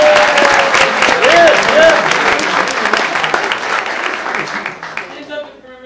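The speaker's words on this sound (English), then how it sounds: "Round of applause" A theatre audience applauds a volunteer named Jim at a live show, dense clapping filling the room before thinning and fading out toward the end, with a few voices mixed in.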